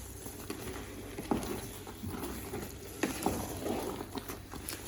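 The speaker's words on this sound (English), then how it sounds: "Now this is the stage where I'm to add my rice. Just add them gently as you're adding." Uncooked rice poured gently into a pot of jollof rice base, a faint soft pattering and scattered light ticks of grains landing, quiet and close with a low background hum.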